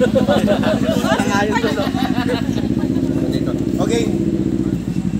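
A motorcycle engine idles nearby with a loud, rough, rattling putter while people talk over it.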